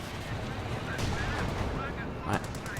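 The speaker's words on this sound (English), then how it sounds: "6-pounder wastes a shot on the infantry" Gunfire in a Company of Heroes 2 match between Ostheer and British forces, with a 6-pounder, Cromwell and Panzer IV in play: a dense, rumbling stretch of battle noise with several distinct sharp shots, the clearest one near the end.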